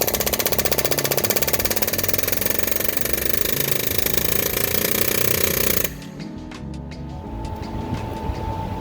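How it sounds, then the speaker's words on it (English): An air hammer rattles fast and loud while knocking out a fan clutch on a 2009 6.4 diesel. The hammering runs in a dense continuous burst, then stops abruptly, leaving a quieter rumble and a few clicks. "Let's get this fan clutch out and we're air hammer this boy out."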